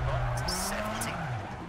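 Rally car sliding through a tight turn in a WRC video game, with a handbrake skid: a short tire squeal over a droning engine, lasting under two seconds, moderately loud.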